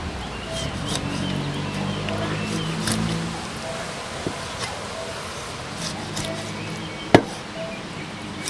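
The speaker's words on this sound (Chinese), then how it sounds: "咱切块块啊。" A knife chops thick-skinned, tough pork belly into chunks on a board, steady rough chopping under a background hiss, with one sharp louder strike near the end.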